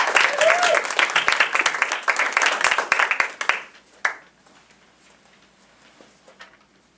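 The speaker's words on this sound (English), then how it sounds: "Let's keep those applause going for Ann Hunter." An improv showcase audience claps loudly for about three and a half seconds, then the applause thins out and fades into quiet room noise with a last stray clap.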